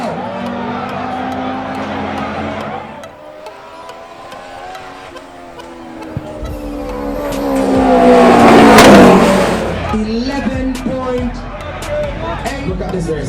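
A Nissan drag racing car roars down the strip in an elimination round at a drag racing event. The engine revs rise and fall, build to a loud, near pass, and are heard under excited commentary and crowd noise.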